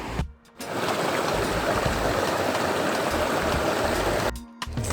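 A broad river flowing at a riverside outdoor cooking spot gives off a steady, dense rush of water, holding constant for about four seconds between brief quieter gaps at the start and end.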